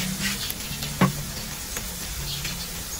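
Garlic and onion sizzle in a non-stick frying pan with a steady, close hiss, a sharp clack near the one-second mark and a few soft scrapes, with no voices.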